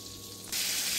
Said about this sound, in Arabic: اول شي حطيت زبدة وزيت، ورح احط الفروج وقليه لحتى يستوي